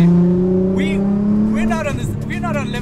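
A 600 hp straight-piped Nissan GT-R R35 rumbles loudly from inside the cabin with a steady, deep drone that dips slightly partway through, while voices talk over the engine.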